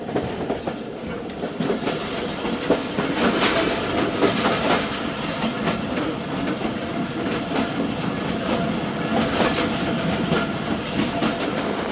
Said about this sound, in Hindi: नमल रेलवे स्टेशन पास कर रही है ट्रेन